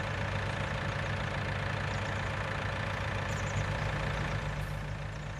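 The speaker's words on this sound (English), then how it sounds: "have to move this tractor out of the way because he won't move" A tractor engine idles in Farming Simulator 19 during a corn harvest, a steady low rumbling drone that holds at an even, moderate level throughout with no talk.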